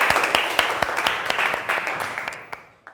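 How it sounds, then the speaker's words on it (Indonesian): Audience clapping after a teaching performance assessment in a classroom, fairly close, with distinct individual claps forming a loose rhythm that thins out toward the end. "Tepuk tangan dulu."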